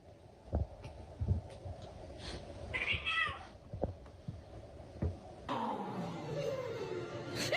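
A domestic cat meows a few times, with a brief pitched cry in the middle, amid household clatter and a busier stretch toward the end.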